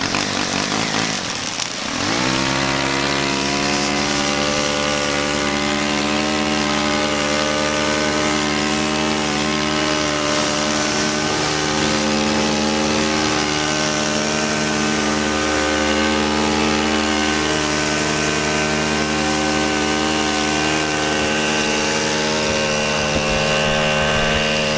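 A lawn mower engine starts and then runs steadily and loudly while mowing, with a constant droning hum that holds throughout without pause.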